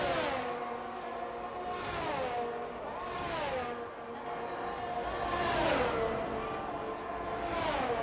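Racing cars in an F1-style racing video game stream along the pit straight at Portugal, engines revving high and shifting pitch as several cars whoosh past one after another, loud and close throughout with no talk.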